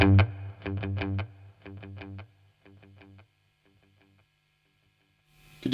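Distorted electric guitar through a BOSS Katana 50 amp with delay plays a few chords whose repeats echo and fade away into silence, with a new strum starting at the end.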